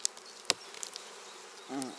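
Honey bees buzz inside a spring hive full of capped brood, a faint, low, steady hum with a few sharp clicks and a short louder buzz near the end.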